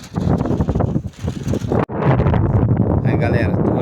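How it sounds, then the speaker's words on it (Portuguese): Strong wind buffets the microphone outdoors during kite flying, a loud continuous roar broken by a brief dropout, with someone talking over it throughout. "Tá ventando pra caramba."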